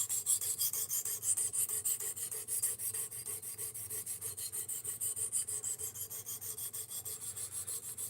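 A knife blade worked on a Work Sharp RMX sharpener, a fast, even rhythm of raspy strokes repeating about twice a second, close and steady throughout with no talk.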